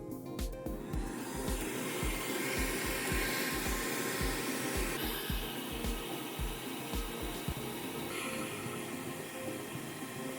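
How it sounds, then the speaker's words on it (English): Fume extractor fan running steadily during stained glass soldering, a constant broadband whoosh with repeated low rhythmic thumps and clatter from work on the bench underneath it, fairly faint, no talk. "let me definitely turn this fume extractor back on"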